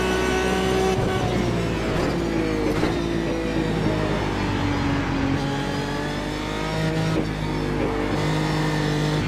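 An Aston Martin DBR9 GT1 race car roars through iRacing, its engine holding a loud, steady drone that dips and climbs with gear changes and throttle lifts, with faint tire noise underneath.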